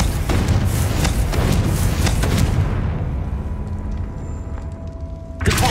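A Confringo spell erupts in the Hogwarts Legacy video game as a loud, dense fiery blast with rolling crackle that fades into a quieter ringing tail before a final burst.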